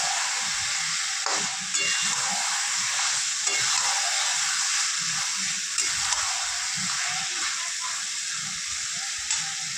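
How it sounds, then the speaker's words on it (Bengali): Steady loud sizzling of mutton frying with spices in hot oil, with occasional stirring scrapes and clinks throughout. "এবার মশলাটার সঙ্গে মটনটা একটু ভাজা ভাজা করে নেব।"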